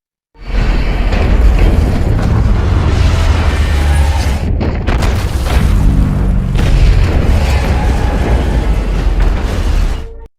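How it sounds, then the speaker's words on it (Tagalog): A missile exploding in London in an action film, a loud sustained booming roar with rumbling debris and a brief dip midway before the blast noise swells again. "nagpaputok ng isang missile sa London, na nagdulot ng malaking pinsala sa buong lugar"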